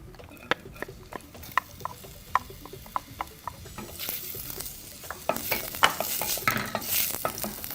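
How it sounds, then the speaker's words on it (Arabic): Chopped onion sizzles in hot ghee (samna) in a cooking pot, with a steady frying hiss that swells louder partway through, broken by sharp clicks of stirring against the pot. "السمنه كده تسخن مع الحله بتاعتي وانزل على طول بالبصله"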